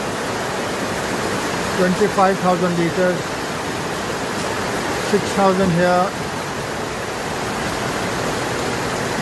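Rainwater from a second-floor rooftop pipe pours into a water tank during heavy Delhi rain, a loud, steady rushing roar under a man's speech.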